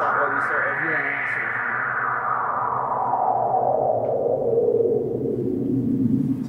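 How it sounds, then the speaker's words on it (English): White noise run through a resonant filter in Ableton Live 9 for a deep house track, the bright hissing peak sweeping steadily downward from high to low over several seconds at a constant, loud level. "you're just filtering that off whilst adding a bit of resonance to get that sweeping"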